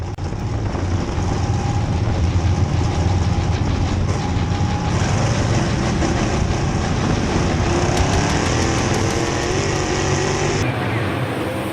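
Engines of LCDRL race cars rumble and idle on the grid at Boomtown Speedway, recorded on board from the outside of the fifth row before the green flag, a loud, steady, throbbing drone with faint voices mixed in.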